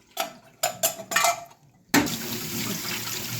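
Canned corn clatters in a metal container a few times, then a tap opens and water runs steadily as the kernels are rinsed in a home kitchen sink.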